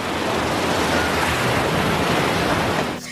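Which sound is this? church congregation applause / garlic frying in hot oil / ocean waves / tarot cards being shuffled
ocean waves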